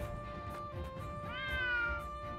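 A cat meows softly in a short rising call, faint and somewhat distant, over low background ambience.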